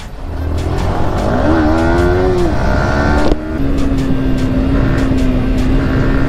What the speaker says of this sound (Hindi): drag race